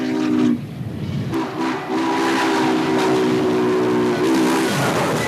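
Norfolk and Western 611, a J-class steam locomotive, sounds its whistle in long loud blasts while passing freight cars in a classification yard, with a continuous rolling train rumble underneath.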